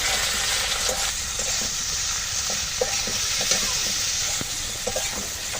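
Potatoes sizzle and fry in a pan with turmeric, chili powder and slit green chilies as they are stirred, a loud continuous hiss broken by scraping taps of a spoon, with no one speaking.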